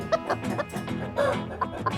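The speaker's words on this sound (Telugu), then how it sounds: "కోడి దొంగ కన్నన్ ప్రతివారము కోళ్ల ఫాముకెళ్ళి కోళ్లని కొని వాటిని సంతలో అమ్మి వ్యాపారం చేసేవాడు" Several chickens cluck in short, irregular bursts close by, overlapping one another without any talking.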